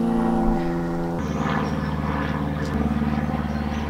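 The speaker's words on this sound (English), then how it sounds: "this airplane is never gonna pass" A propeller airplane drones steadily overhead, a loud, continuous engine hum that holds for the whole stretch with a slight shift in pitch partway through.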